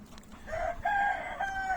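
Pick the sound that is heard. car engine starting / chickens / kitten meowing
chickens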